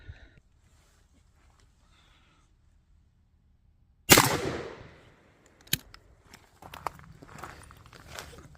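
An NEF H&R Pardner 20 gauge single-shot shotgun fires one round of 7.5 birdshot outdoors, a single loud, sharp report with a short decaying tail, followed by faint handling clicks and footsteps.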